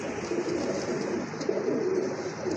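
Many pigeons coo together at a bustling pigeon market, a dense continuous low cooing chorus that stays steady and close for a few seconds with no talk over it.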